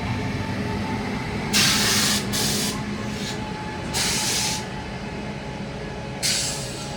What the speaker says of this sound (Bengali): আমাদের এই ট্রেনকে এখন পার করবে ট্রেন নম্বর 13114 লালগোলা কলকাতা হাজারদুয়ারি এক্সপ্রেস।